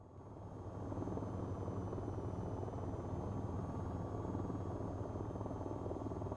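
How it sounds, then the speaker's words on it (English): Steady, droning helicopter rotor thump with an engine hum in the video game VTOL VR, continuous and even throughout with no voices. "This is the slowest helicopter."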